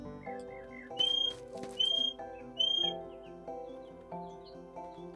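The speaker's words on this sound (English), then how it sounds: "I want to just see if my chicken will follow me if I whistle at it." A whistle in the Staxel video game calls a chicken: three bright, rising whistle notes sound about a second apart over soft, tonal game music, followed by a few faint chirps.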